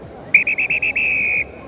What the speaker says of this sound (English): And that is the final whistle of the Sportpesa Legends Cup